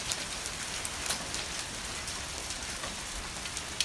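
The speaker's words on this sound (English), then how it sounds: "It's hailing again." Hail falling steadily outside, a dense continuous patter of small impacts with a few sharper hits scattered throughout, no talking.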